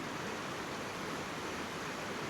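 Small stream of water running over rocks in New Zealand bush, a steady close rushing wash with no breaks, nobody talking.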